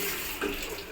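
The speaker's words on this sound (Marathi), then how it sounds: "पाणी भरलं आहे, जे ओव्हरफ्लो झालं आहे" Water spills over from a filled tank in a brief, close, splashing trickle.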